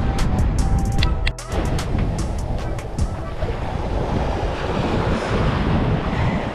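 Waves breaking along a beach shoreline at Fort De Soto with the tide coming in, a loud continuous surf wash mixed with wind buffeting and a few sharp clicks and knocks early on.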